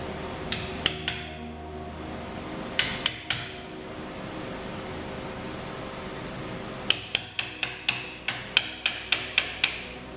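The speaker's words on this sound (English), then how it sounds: "now we're ready to start chiseling, and we're just gonna do a little bit at a time" A hammer strikes a wood chisel while cutting a mortise for a deadbolt, sharp ringing taps in short clusters, then a faster run of about a dozen blows, close and fairly loud with no talking.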